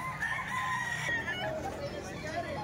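Roosters crow loudly at a chicken market beside a mall parking lot in Baliwag, Bulacan, one long crow drawn out over a busy din of the crowd and other birds.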